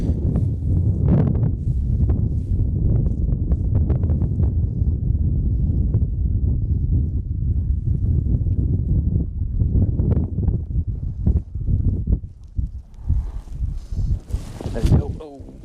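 Steady wind roars across the microphone while fishing from a boat, a loud, constant rushing that fills the whole stretch and eases into gustier fluctuations near the end, with someone talking over it.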